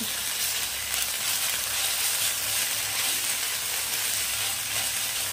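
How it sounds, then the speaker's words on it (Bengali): Onion fries in a pan with ginger-garlic paste and green chilli paste, a continuous even sizzle with soft stirring, close and unbroken, no one speaking. "এবারে পেঁয়াজের সঙ্গে আদা রসুন আর কাঁচা লঙ্কাটা আবারও একটু ভালো করে ভেজে নিতে হবে"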